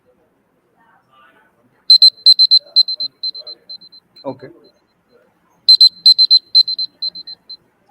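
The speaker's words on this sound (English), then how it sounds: "a buzzer will sound, which will sound something like this." A presentation timer buzzer sounds in two bursts of rapid, high electronic beeps, each a quick run of pulses that thins out, with a brief spoken word between the bursts.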